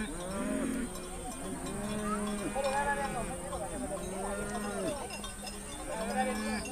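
Cattle grazing beside Maasai bomas give repeated low, drawn-out moos in a slow rhythm, with a faint clank like a cowbell and a thin, steady high whine running behind them.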